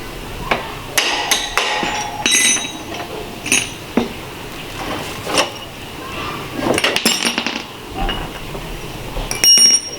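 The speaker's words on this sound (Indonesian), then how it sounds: "Kalau tidak ada martil, gunakan ini sebagai alat pemukul." Improvised hammer strikes land during a motorcycle inner tube change, a series of sharp, irregular metallic knocks and clinks, close and fairly loud, with short pauses between hits.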